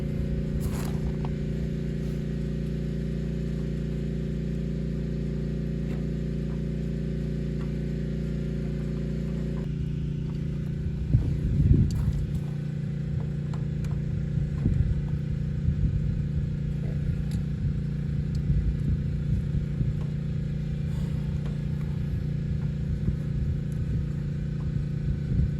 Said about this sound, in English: Ignore the generator.